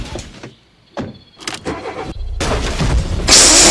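A car engine starting up in the video game ApocZ, cranking and turning over amid clunky game sounds, then swelling into a loud running roar at the end.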